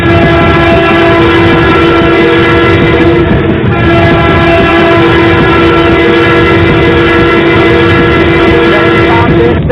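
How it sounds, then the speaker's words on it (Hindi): A loud, steady train-horn-like tone sustains unbroken for about ten seconds at a large satsang gathering at Ramleela Maidan, Delhi, a railway-themed moment with no speech over it. "देखते रहना रेलगाड़ी कहाँ कहाँ पहुँचती है"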